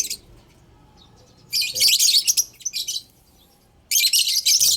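Birds chirping loudly in two dense bursts separated by a quieter stretch of scattered faint calls.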